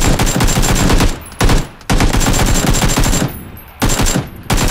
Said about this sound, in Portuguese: pelo menos os disparos vieram do lado direito